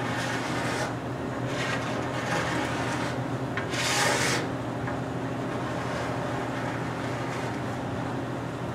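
A credit card scrapes excess filler off a surface in repeated close, dry rasping passes over a continuous low hum, with one louder scrape partway through and no voices.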